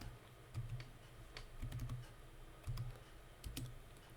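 Bursts of typing on a computer keyboard, several quick clusters of clicks about a second apart, close and fairly quiet, with no talking.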